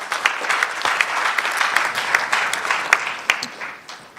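Audience applause at a national science and maths quiz championship launch, a moderately sized crowd clapping with distinct individual sharp claps standing out over the steady wash.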